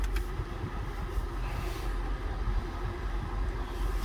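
A 2008 Honda Accord EX idles at a dealer auction just after starting, a steady low engine hum that runs evenly with no talking.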